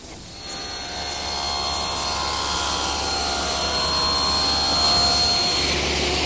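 Table saw ripping one edge of a board at a 3.5 degree bevel in a woodworking shop, a steady loud whining roar that builds in the first second and holds through the cut with no talk.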